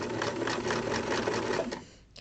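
A sewing machine stitches a buttonhole, running a steady rapid back-and-forth zigzag over the top of the opening, loud and close, before cutting off near the end.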